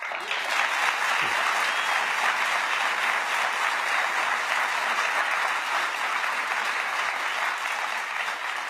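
Sustained audience applause, steady and dense, filling the space evenly with no pauses and no voices breaking through.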